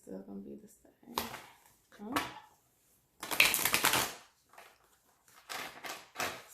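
Tarot cards riffled and shuffled in quick papery bursts, several separate rounds of shuffling close to the microphone with quiet gaps between them.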